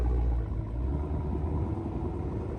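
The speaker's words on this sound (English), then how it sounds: "that engine and exhaust sound amazing" A Dodge minivan engine and exhaust rumble in a low, steady drone, fairly quiet and continuous, with no talking.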